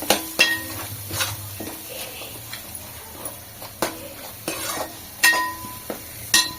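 Coconut and poppy seed paste being stirred in a frying pan for goat trotter soup, with a spoon scraping and clinking against the pan in irregular strokes over a soft, steady sizzle, close by and with no talking.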